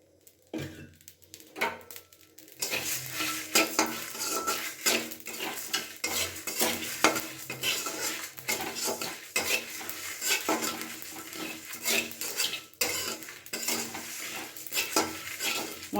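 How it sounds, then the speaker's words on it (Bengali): Spices are dry-roasted in a dry pan while being stirred continuously, metal scraping and clattering steadily and loudly with a faint sizzle underneath, all close up, for amla pickle. "এবার আমি শুকনো খোলাতে সমস্ত রেডি করে রেখেছিলাম ওই মশলাগুলোকে ভালো করে ভেজে নেব।"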